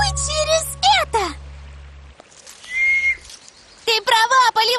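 Someone whistles by blowing through a plant, giving shrill wavering tones in short bursts with gaps between, close up, while a voice and other voices speak around the whistles.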